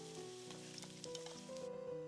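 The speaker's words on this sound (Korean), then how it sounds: "두부 구울 때 자꾸 뒤적거리지 마시고 그냥 구워야 겉면이 예쁘게 노릇노릇해져요" Tofu pan-fries in oil for a Korean potato and tofu braise, giving a soft, steady sizzle with faint crackles and no talk over it.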